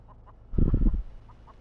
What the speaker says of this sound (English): You gotta get away from those chickens.